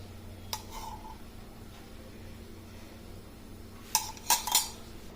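A metal kadai is set down on the stove with a sharp clank, then a quick burst of three more clattering knocks, as cooking starts for a Telugu okra pulusu curry in a home kitchen.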